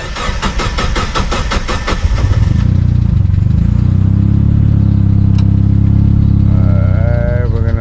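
A Mazda Miata engine with no idle air control valve and a knocking problem cranks, then runs with a loud, steady low rumble for several seconds before it falters and dies.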